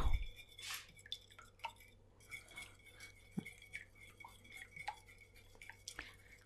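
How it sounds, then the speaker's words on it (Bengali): Three eggs being beaten with a fork in a bowl for a bread toast breakfast, heard as faint, quick, irregular clinks and scrapes of metal on the dish in an otherwise quiet kitchen. "এখানে আমি তিনটা ডিম নিয়ে নিয়েছি এটা একটু ভালো করে ফেটে নেব"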